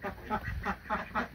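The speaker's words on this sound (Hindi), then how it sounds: "और ये रही जो हमारी बतखें।" Farm ducks quack in several short repeated bursts at close range in a courtyard. The calls come in a steady rhythm and fairly loud.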